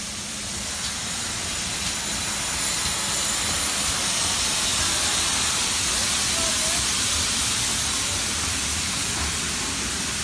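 Steady, loud hissing steam fills the air with a low rumbling steam locomotive underneath at a steam gala on the North Yorkshire Moors Railway, continuous throughout with no talking.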